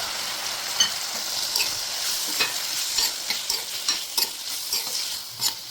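Three large chopped tomatoes are stirred in a frying pan for palak paneer, with a soft continuous sizzle broken by repeated sharp scraping and clattering strokes of the spoon, close and quiet, with no voices.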